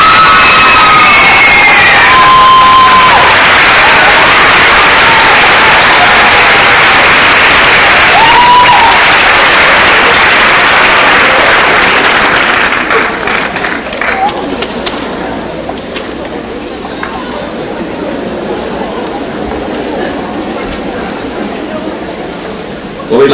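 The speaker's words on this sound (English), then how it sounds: "Please give a big round of applause to our 2003 Little Mr. Strassenfest." A large crowd at a 2003 Strassenfest pageant claps and cheers loudly and continuously. After about twelve seconds the applause fades into quieter scattered clapping and murmuring.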